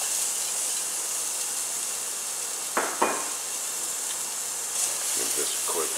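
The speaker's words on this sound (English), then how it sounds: "we've got our oil heated up over a medium-high heat. And to this we're going to add in our onions." Onions frying in oil heated over medium-high heat make a steady, even sizzling hiss, broken by a couple of brief clinks, while a voice talks.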